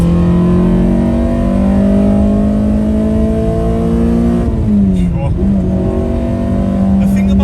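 A Honda Civic with a swapped K-series engine drones loudly at steady revs, then dips and climbs again as it downshifts from fourth gear, with talking over the engine noise.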